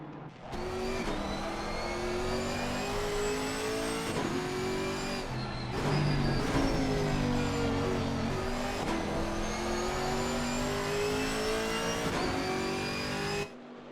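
A Chevrolet-sourced 6.2 litre LT1 naturally aspirated V8 in a GT4 race car at Zandvoort roars loudly, repeatedly climbing through the gears with sharp upshifts and a brief lift before accelerating again.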